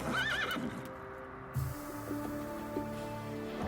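Several horses kept by fur-company traders near a trading post whinny and neigh in rising, wavering calls, with some hoof shuffling and low ambient noise around them.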